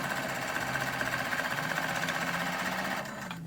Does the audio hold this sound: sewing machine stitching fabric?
yes